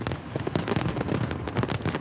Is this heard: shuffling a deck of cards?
no